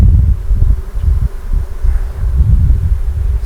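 Bees buzz in a low, close, wavering drone around an opened hive during a bee installation on a farm, mixed with faint wind rustle and no talking.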